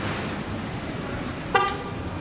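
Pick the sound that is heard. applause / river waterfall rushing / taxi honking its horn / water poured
taxi honking its horn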